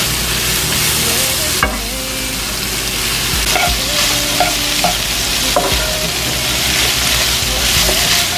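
Smart Balance butter sizzles and fries steadily in a pot on the stove, with a continuous crackling hiss broken by a few brief clanks and stirring scrapes.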